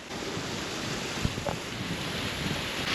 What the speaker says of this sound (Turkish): Yani şelale.